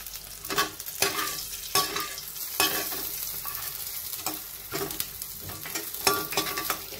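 Fox nuts (makhana) rattle and sizzle as they are stir-fried in a pan, with repeated scraping stirs cutting through a steady close crackle.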